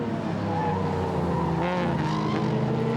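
A Corvette race car in a historic sportscar race accelerates down the straight, its engine a loud, steady, sustained roar that rises slightly in pitch, with no voices.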